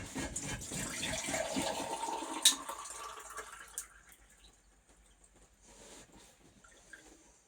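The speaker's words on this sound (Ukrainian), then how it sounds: "виливаю сюди холодну воду" Cold water poured into a bowl of scalded flour for pie dough, a close splashing pour that runs for about two seconds and then trails off into quiet drips and faint kitchen sounds.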